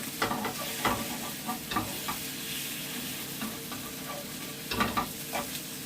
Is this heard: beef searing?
yes